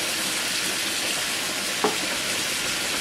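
Mushrooms go into a pan with pork tenderloin and fry with a dense, even sizzle throughout, with one faint knock partway through.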